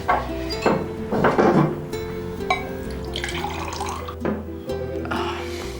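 Water runs and splashes into a glass for drinking, with a few clinks of glassware and bursts of pouring in an indoor setting, fairly close.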